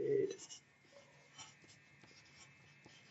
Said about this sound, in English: We're going to write that down.